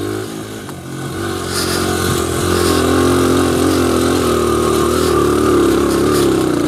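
A 2001 Honda XR100R motorcycle engine runs steadily close by, its loud buzzing drone rising slightly in pitch as the revs build and then holding at a sustained level throughout.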